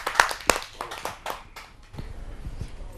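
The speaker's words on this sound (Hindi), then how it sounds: "आइए जोरदार तालियों से उनका स्वागत करें" Sparse clapping at a Hindi kavi sammelan as a poet is welcomed to the stage, a few sharp close claps early on that thin out into scattered, fading hand claps.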